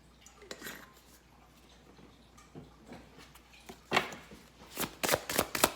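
A deck of cards is shuffled for a tarot-style reading, with soft riffling and sharp flicking bursts building toward the end, close and quiet with no talking.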